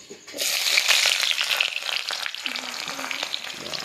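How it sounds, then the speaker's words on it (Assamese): Onions drop into hot oil in a wok with a sudden loud sizzle that swells and then settles into steady crackling frying, with a few small clinks of stirring near the end. "আৰু তেল গৰম হৈ গ'ল আৰু মই এতিয়া লাহেকৈ পিঁয়াজ দি দিওঁ।"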